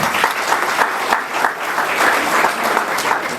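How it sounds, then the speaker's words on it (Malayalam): Sustained applause from an audience at a First Holy Communion celebration, honouring a family; steady, dense clapping at even loudness throughout, with no talk over it. "കൈയടി കൊടുക്കാമോ?"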